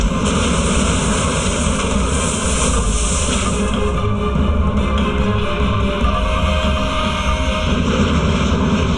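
A loud, constant airplane engine roars with a broad steady rumble and a hissing high end that eases slightly partway through, with no voices over it.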